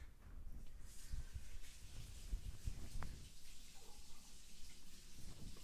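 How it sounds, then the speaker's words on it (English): Running water splashes steadily over a titanium knife part held under a tap, a continuous close hiss with small irregular spatters and no talking. "Let me rinse this real quick."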